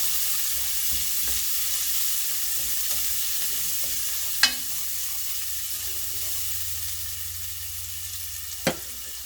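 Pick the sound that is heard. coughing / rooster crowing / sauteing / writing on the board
sauteing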